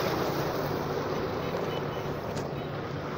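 A running tube well pump with water gushing out makes a steady, close rushing wash of broadband noise that stays level throughout, with no talking.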